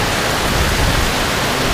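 Heavy rain pours down outdoors, a dense, loud, unbroken rush of noise with no gaps or voices.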